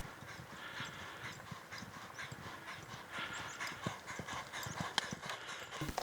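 Steady scuffing and thudding of hooves in a racing stable, loud and close throughout, with a continuous rustle of bedding or movement under the steps and no talk.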